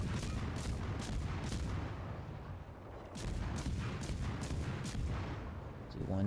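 Naval shellfire bursts around the player's destroyer in World of Warships Legends, a dense run of booms and blasts with short gaps, loud and continuous over a rumbling background.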